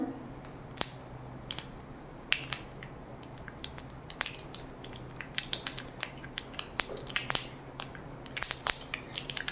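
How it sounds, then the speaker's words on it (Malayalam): Scattered sharp pops and crackles from mustard seeds in hot oil, irregular and quick, over a faint steady background hiss. "കടുക് പൊട്ടി തുടങ്ങി."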